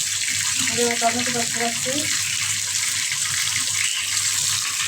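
Steady rush of water pours from a kitchen tap while fish and vegetables are being prepared, a continuous broadband hiss with someone speaking briefly over it early on.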